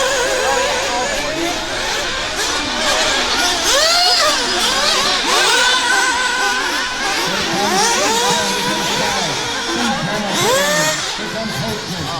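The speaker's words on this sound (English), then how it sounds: "That's a loud car." Nitro RC buggies racing in a 45-minute A-main at Otterville Nitro Blast scream through repeated high-pitched revs that rise and fall as they pass, some close and some distant, over a murmuring crowd.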